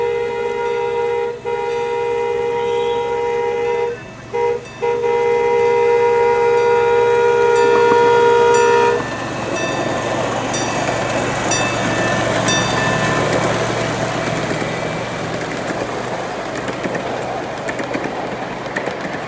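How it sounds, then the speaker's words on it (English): Miniature train 8102 departing a small station at a steam museum's steam and power show, its horn sounding a long steady tone with brief breaks for about nine seconds, then a rumbling, clattering run as it pulls away. "Now 8102 departs from the micro train station."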